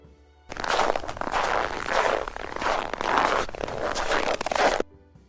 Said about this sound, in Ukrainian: Це звук, як ми йдемо по сніжку.